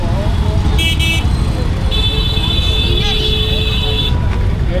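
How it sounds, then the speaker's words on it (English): Tuk-tuks honk repeatedly in busy street traffic in Rajasthan, India, with short high horn toots and one longer blast over a constant roadway rumble, heard up close from the roadside. "The tuk-tuks don't stop honking at you."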